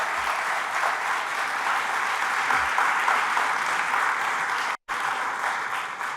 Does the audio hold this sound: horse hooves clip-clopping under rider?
no